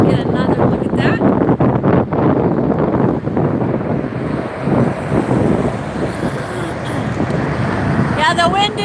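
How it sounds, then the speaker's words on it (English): Gusty wind buffets the microphone at an airport plane-spotting spot, a loud, rumbling roar that surges and eases throughout, with someone talking over it. "Yeah, the wind is picking up a little bit."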